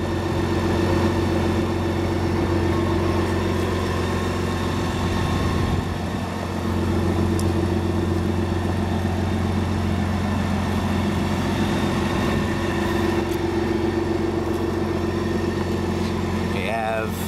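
A T-Rex 16S three-wheeler with a BMW 1600cc six-cylinder motor idles steadily and loudly up close, a constant even hum throughout with a brief click near the end.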